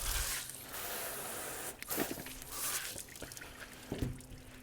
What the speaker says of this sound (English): rinse out the inside of his body cavity. And I like to do that until the water runs mostly clear